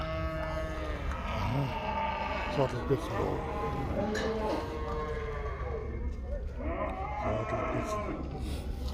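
Cattle low and moo across a busy Shymkent livestock market, repeated calls rising through steady crowd noise while people talk nearby.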